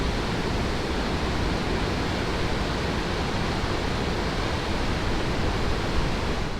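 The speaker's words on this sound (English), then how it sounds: "Man, the waterfalls are absolutely roaring down there." Waterfalls roar after rain as a dense, continuous broadband rush of falling water, steady and enveloping with no voices.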